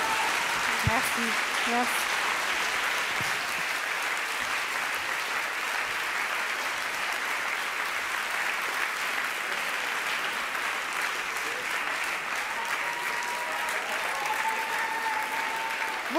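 Audience applause fills the hall at the end of the Swiss national final of a thesis-in-180-seconds competition, steady and sustained clapping throughout, with a voice briefly thanking the crowd over it.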